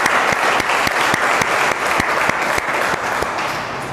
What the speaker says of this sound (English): Please clap for Ria.